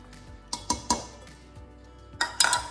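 Clinks and taps of a utensil against a bowl while oats, flour and sugar are mixed for an apple crisp, several sharp knocks in two clusters over quiet background.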